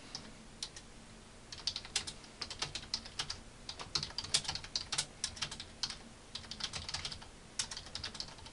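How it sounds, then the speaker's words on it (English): Steady typing on a computer keyboard, fast clustered keystrokes in irregular bursts, close and clear with no voices. "I'm just gonna type to her since she's very shy."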